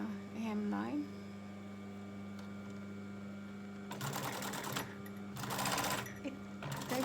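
Sewing machine stitching along the very edge of a hemline: two close, steady whirring runs of stitching, the second longer, after a brief voice and quiet hum.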